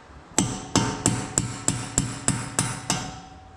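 A hammer tapping on an aluminium wheel rim during tyre removal, nine sharp metallic strikes at an even, steady rhythm, close and clear with no talk.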